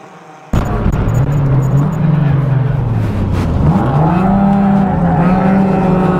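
A race-prepped Toyota Vios hatchback, number 62, with a broken gearbox, its engine droning loud and close on a racetrack after an abrupt start, pitch dipping and rising again as it revs on.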